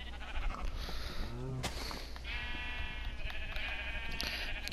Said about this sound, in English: Can't afford to lose a sheep.